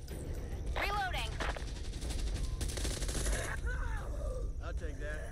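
Rapid sustained automatic gunfire from the Back 4 Blood shooter, a dense fusillade of close, loud bursts with game voices calling out over the shooting.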